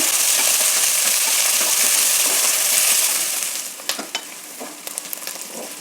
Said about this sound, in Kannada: ಈರುಳ್ಳಿ ಎಲ್ಲ ಚೆನ್ನಾಗಿ ಫ್ರೈ ಆಗ್ತಾ ಇದೆ